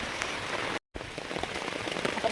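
Heavy rain falls steadily in a wooded area, a dense, continuous hiss of drops striking surfaces close by, broken by a brief gap of silence partway through, with no voices.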